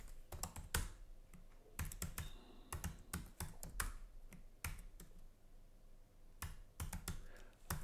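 Computer keyboard keys being typed in bursts as a default value is entered into a Microsoft 365 document field; crisp, close clicks in quick clusters separated by short pauses, with no talking.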